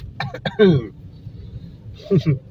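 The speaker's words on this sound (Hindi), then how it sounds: "हाँ, गला खराब है, खांसी आ रही है।" A person with a sore throat coughs in a few short, rough bursts, close and fairly loud, with a brief pause before a final cough.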